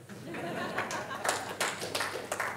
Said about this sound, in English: Or a round of applause.